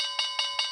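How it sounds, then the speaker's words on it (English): A bell on a live stock-market trading stream rings three times in quick, even succession, bright metallic strikes over a sustained ringing tone, with no talking. "Let's ring the bell."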